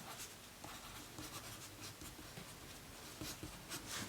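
Continuous scratchy scribbling of a pen writing a name on a paper footprint cutout, steady and close, with no voices.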